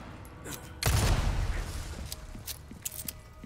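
An explosion in Resident Evil 4 Remake bursts with a sudden loud boom, followed by a rumbling debris-filled tail and a few scattered sharp cracks fading out, heard alone without speech.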